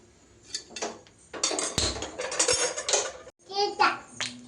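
Clay pots with clay lids and an iron lid being handled, close clattering and scraping knocks in short bursts, with someone talking in between.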